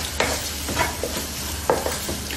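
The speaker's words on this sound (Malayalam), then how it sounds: "അത് നന്നായി ഒന്ന് ഇളക്കി കൊടുക്കുക" Mushrooms with oregano being stirred in a frying pan: a handful of scraping, shuffling strokes over a soft sizzle, close and clear with no voices.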